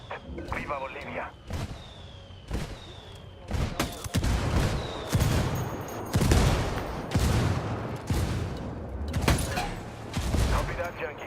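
A fire-for-effect artillery barrage in Ghost Recon Wildlands lands as a rapid series of loud, heavy blasts and booming impacts, one after another, with rumbling between them.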